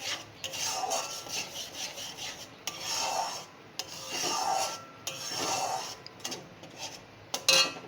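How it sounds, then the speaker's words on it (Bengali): A spoon scrapes and rubs through ground spice paste in a cooking pan as it fries, with rhythmic rasping strokes and brief pauses, a few light metallic clinks near the end, heard close and fairly soft. "দিয়ে ভালো করে নাড়াচাড়া করে নেব"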